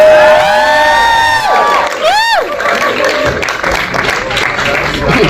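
An audience at a film trailer press conference cheers and whoops loudly as a cast member is welcomed, with clapping and excited shouts filling the room and a whistle-like rising cry rising above the crowd.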